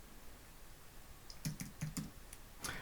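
Faint room tone, then a quick burst of keyboard typing, with several irregular key clicks close by.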